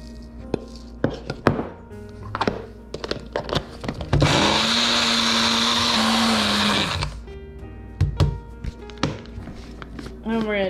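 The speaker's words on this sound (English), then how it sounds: "I have this magic bullet" A Magic Bullet blender whirs loudly for about three seconds, a steady roaring buzz, framed by chopping thunks, clatter and bits of talk before and after.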